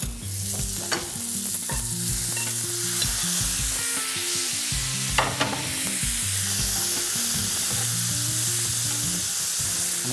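Hearts and kidneys with grated ginger and garlic fry in a hot pan, a loud continuous sizzle broken by repeated stirring scrapes and knocks, close up with no talking.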